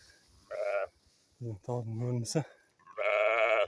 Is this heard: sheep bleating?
yes